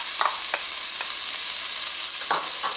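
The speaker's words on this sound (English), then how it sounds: "And we're going to just saute this." Onions, pickles and scraps of flank steak for rouladen sauté in a pressure cooker, a bright steady hiss broken by a few brief stirring scrapes, with no voices.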